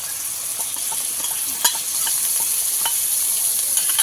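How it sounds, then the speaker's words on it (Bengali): Ginger and cumin spice paste stir-fried in oil for a Bengali fish kalia, a steady close sizzle with intermittent scraping clicks of a spatula, continuous and fairly loud throughout. "সম্পূর্ণ মশলা একসঙ্গে ভালো করে কষাবো।"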